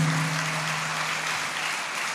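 Loud, steady applause from a Sunday worship congregation in church fills the room, a dense continuous clatter of many hands with a low sustained tone underneath at the start.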